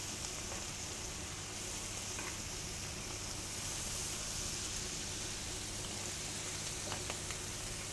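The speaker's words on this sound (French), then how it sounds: "la truite est bien dorée. On laisse bien cuire les champignons." Trout and mushrooms fry in a pan with a dense, constant hiss and a soft sizzle, a few faint pops rising above it, close and unbroken for the whole stretch.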